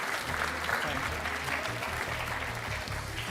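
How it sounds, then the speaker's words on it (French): A TV game show studio audience applauds a contestant, a steady wash of clapping held at even loudness for the whole stretch, with crowd murmur and music underneath. "mesdames et messieurs, on peut applaudir Benjamin, s'il vous plaît"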